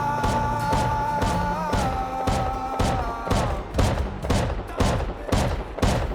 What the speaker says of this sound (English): I heard some gunshots from the distance and decided to check it out.